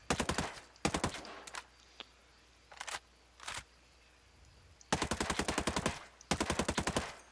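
Assault rifle fire in Ghost Recon Breakpoint comes as sharp, loud automatic bursts with a couple of single shots between, starting and stopping in quick, rapid-fire strings with quiet gaps.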